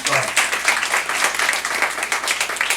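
Church congregation at a Saturday worship service breaks into dense, continuous applause, many hands clapping at once and filling the room steadily without a break.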